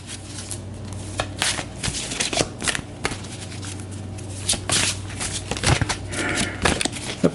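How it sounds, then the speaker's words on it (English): A stack of investigator cards from the Eldritch Horror board game being shuffled by hand, repeated crisp riffling and slapping bursts in an irregular rhythm, close and clear with no talking. "So we'll give this a shuffle."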